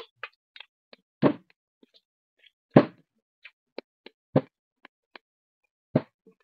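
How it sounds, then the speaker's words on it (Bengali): A spoon packing hot filling into eggplant for Bengali dolma, heard as scattered soft plops and thwacks, a few louder knocks standing out among light clicks, close and with no talking. "এই চামচের সাহায্যে আমি পুরটা ঢুকিয়ে নিচ্ছি।"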